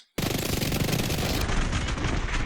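Rapid, sustained automatic gunfire from an SMG in The Division, a loud continuous rattle of shots starting abruptly after a brief silence and running without pause.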